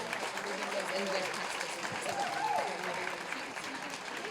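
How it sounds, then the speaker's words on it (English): A live storytelling audience gives a round of applause for the evening's storytellers, a sustained, even patter of clapping with voices murmuring and calling out beneath it. "give one more wonderful round of applause to all of our storytellers tonight"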